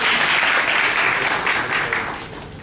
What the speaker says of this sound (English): A round of applause, ladies and gentlemen, for actors of Scenario